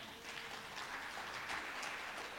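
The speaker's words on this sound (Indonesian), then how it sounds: "Tepuk tangan sekali lagi." Faint, distant applause from a young people's church revival crowd at the KKR Kaum Muda Boanerges event in Indonesia makes a steady wash of clapping throughout, with no speech over it.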